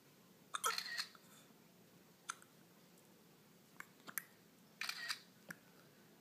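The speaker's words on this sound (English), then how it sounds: "Some of them are much deeper hiccups and some of them are squeaky." A baby hiccups in a quiet room, with several short, sharp, squeaky hiccups spaced irregularly and heard faintly.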